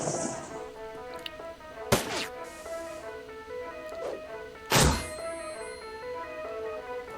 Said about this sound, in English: Why did he just grenade his own teammates?